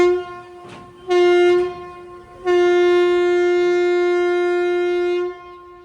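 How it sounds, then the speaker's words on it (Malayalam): Navyug Express train horn sounding three times, a brief first toot, a second short blast, then a long sustained loud tonal blare, heard close with no talk. "ഇനി ഒരു 3 ഹോണടി കേൾക്കാം"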